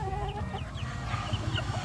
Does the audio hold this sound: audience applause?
no